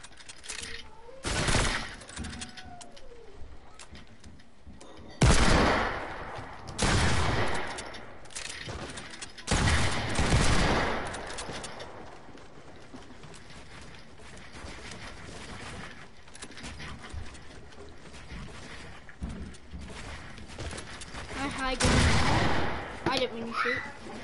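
Bursts of gunfire in a video game 1v1 match between friends, several loud volleys spread irregularly across the stretch with quieter stretches between, while players talk over the action.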